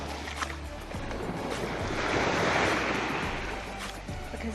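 Ocean waves wash onto a summer beach in a steady broadband rush, swelling to a louder surge midway before easing back, with no talking.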